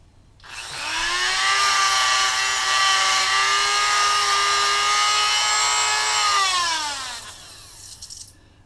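Power tool spinning up and whining steadily for about six seconds while shining a brass switch part salvaged from an electric meter test box, pitch rising at the start and sagging as it winds down, close and loud with no talk.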